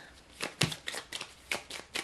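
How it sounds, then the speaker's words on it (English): A deck of playing cards is shuffled close up during a card game, with a series of crisp riffling and snapping bursts in quick irregular succession. "I want to shuffle the cards pretty good."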